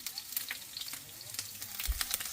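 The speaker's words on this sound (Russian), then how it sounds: "Обжарить сначала лук на этом масле, а потом уже жарить камбалу." Onion sizzles in hot oil in a pan before flounder is fried, a steady crackling hiss with fine pops and a soft clatter of stirring near the end.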